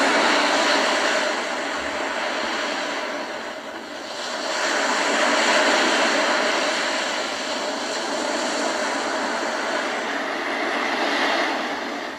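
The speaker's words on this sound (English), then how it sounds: "Let's do some ocean." A portable nature sound machine plays an ocean track, a continuous broadband wash of surf that swells and recedes in slow waves, steady and close, with no talking.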